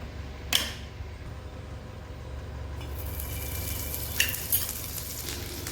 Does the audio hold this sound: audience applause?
no